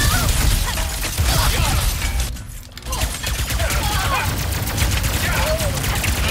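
Sustained enemy gunfire in Ratchet & Clank: Rift Apart, a dense, loud barrage of rapid shots and mechanical clatter that pauses briefly before resuming, with a voice talking over it.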